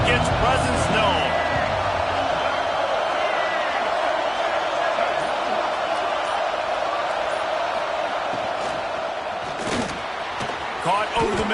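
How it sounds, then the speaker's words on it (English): Stadium crowd in an American football video game, a loud continuous roar and murmur swelling throughout, with commentary talk running over it. "This crowd ready to make its presence known."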